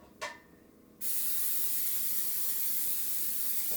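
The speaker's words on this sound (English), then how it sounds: "I'm going to spray that pan before I put my biscuits on it." Cooking spray shot from a can onto a baking pan: a brief puff early, then a loud, close, continuous hiss lasting nearly three seconds.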